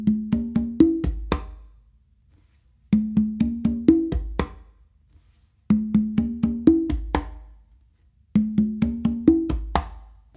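Melodic tumbao variation on congas, played as repeated phrases of six or seven quick hand strokes mixing open tones, bass and slaps, with four clear cycles separated by brief gaps, close and unaccompanied.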